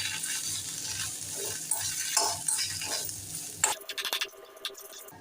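Mashed potatoes with salt and turmeric sautéed in a pan, a continuous close sizzle under repeated scraping stirs, ending in a few sharp metallic taps of a spoon against the pan, with no talking.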